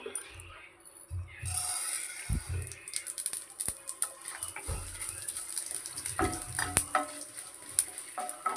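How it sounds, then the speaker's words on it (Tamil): Mustard seeds and urad dal splutter in hot oil in a home kitchen, a steady crackling sizzle with scattered sharp pops and brief clatters of a spoon or pan, close and moderately loud. "நல்லா பொரியட்டும், விட்டுருங்க. நல்லா பொரியணும்."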